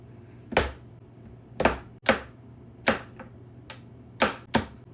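A knife cuts two sticks of cold butter into cubes, seven crisp separate chops against a board at an uneven pace, close and alone.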